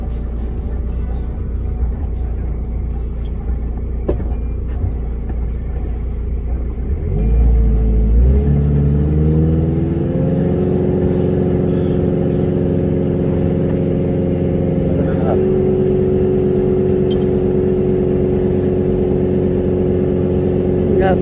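A sailboat's engine drones steadily throughout, then revs up partway and settles into a higher, continuous running pitch, close and loud.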